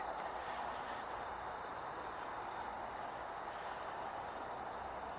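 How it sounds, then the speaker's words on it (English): Steady broadband roar of distant highway traffic, many cars blending into a continuous wash beneath outdoor ambience with chirping crickets, no speech. "so is the highway. So you can hear a lot of cars"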